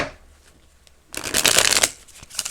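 A deck of playing cards is riffled and shuffled up close after a quiet pause, giving a loud burst of rapid flicking and snapping that lasts about a second and a half and then trails off into lighter card handling.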